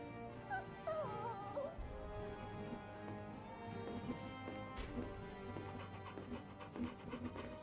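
A puppy in Final Fantasy 16 whimpers and yips in short, high whines over a busy game soundscape, fairly close and moderately loud.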